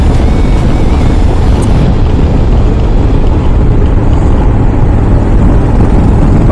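A motorcycle rides through Lisbon traffic at mid-morning, producing a loud, continuous engine roar mixed with heavy wind buffeting, steady from start to end with no speech.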